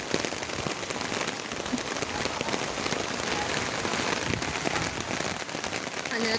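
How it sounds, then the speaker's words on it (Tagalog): Heavy rain pours down steadily, a dense continuous hiss of drops beating on surfaces that stays loud and unbroken throughout, with no voices heard. "So guys, lalo lumalakas ang ulan."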